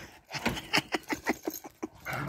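A Cane Corso dog lets out a rapid string of short whimpering, panting breaths close by, about a dozen quick pulses in a row.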